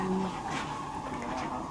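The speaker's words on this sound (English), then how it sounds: "Oh my gosh, it's quite loud in here." Steady, loud machinery drone fills the engine room of the Queen Mary ocean liner in Long Beach, a continuous low hum with broadband rumble and no clear breaks.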